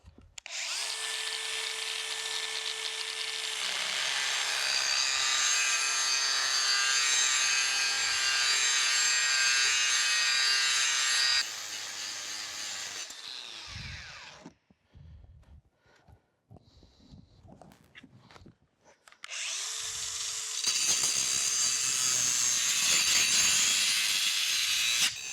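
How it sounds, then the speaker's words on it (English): An angle grinder cuts into a crack in a large, heavy broken casting being prepared for flame brazing, giving a loud sustained whine that runs for about eleven seconds, pauses with scattered clatter, then starts again and grinds steadily to the end. "let's get the grinder out and see if we can grind some of this out so we can start brazing it up"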